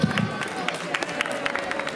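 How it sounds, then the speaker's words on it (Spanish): Applause from a crowd at a San Silvestre race prize-giving, scattered hand claps rising over steady crowd murmur while a voice carries on in the background. "Venga, un gran aplauso"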